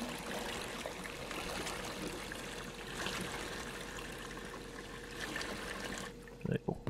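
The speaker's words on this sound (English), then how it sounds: "I'm going to pour 10 litres." Ten litres of water poured in the Brewmaster brewing video game make a steady rushing, trickling stream that runs for several seconds, then stops with a few soft knocks at the end.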